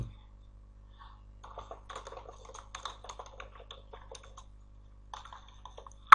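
Typing on a computer keyboard while writing in Word, with soft, close keystroke clicks in irregular clusters across several seconds and a brief pause before a final burst; no talking.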